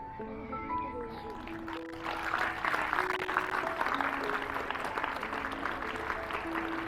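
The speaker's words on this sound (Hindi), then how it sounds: "ताली बजाइए।" Students in a school audience break into applause at a motivational talk; after a brief lead-in with voices, dense clapping builds and continues steadily, with some talk mixed underneath.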